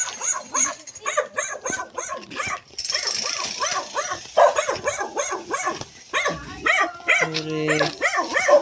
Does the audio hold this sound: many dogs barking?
yes